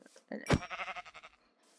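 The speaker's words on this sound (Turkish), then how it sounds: "siyah koyun neden öldürdüm?" A black sheep in the Minecraft video game gives a short, wavering bleat with a pulsing, nasal tone, heard clearly and close after a brief thump.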